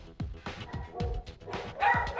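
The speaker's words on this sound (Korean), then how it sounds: "제작진을 공포에 떨게 했던 헐크버드의 으르렁" An aggressive dog nicknamed Hulk Bird growls and barks hard, a run of about five sharp, close barks over a rough growling undertone, loud and near.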